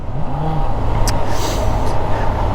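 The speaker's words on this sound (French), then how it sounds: "Alors nous voilà sur la CB650F, une machine de 2015" A 2015 Honda CB650F with a restricted 650 cc four-cylinder engine is ridden. Its engine gives a loud, steady, close drone with wind rush and no talk.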